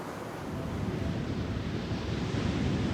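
Sea waves breaking on the eroding coast at Hemsby, an English seaside town, a steady loud roar of surf with wind buffeting the microphone throughout, no voices.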